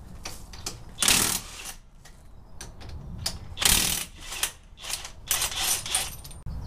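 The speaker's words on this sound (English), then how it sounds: "The first thing we're gonna do is get the rear tires off the rig." Rear wheels being removed from a truck axle during an e-locker axle swap, with close repeated ratcheting and clicking bursts from hand tools and metallic clanks in an uneven rhythm, no talking.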